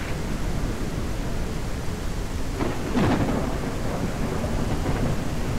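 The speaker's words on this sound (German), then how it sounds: "Jetzt kommt der Regen, weil es macht das Spiel sowas von extra." Thunderstorm in the farming game Ranch Simulator: steady heavy rain hiss throughout, with a rumbling thunder roll swelling near the middle and lingering, no voices.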